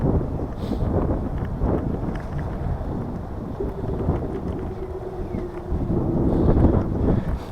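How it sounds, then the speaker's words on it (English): Steady, low rumbling wind buffets the microphone throughout, with a faint hum running beneath and gusts swelling louder toward the end, by Lake Ontario. "It's nice out today, but it's a little on the windy side."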